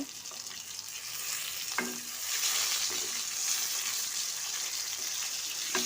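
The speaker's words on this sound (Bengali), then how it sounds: "এবার মাছগুলা আমি দিয়ে দিলাম 4-5টা করে। এরপর ভেজে নেব।" Pieces of rohu fish sizzle steadily in hot oil, a dense continuous crackle with a few soft knocks as pieces are added and shifted, no talking.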